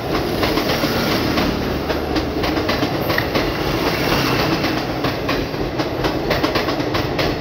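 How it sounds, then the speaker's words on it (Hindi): A Gorakhpur–Amritsar special express train passes close by, its wagons rolling in a steady loud rumble with repeated clickety-clack of wheels over rail joints throughout. "Gorakhpur Amritsar special express number पता नहीं।"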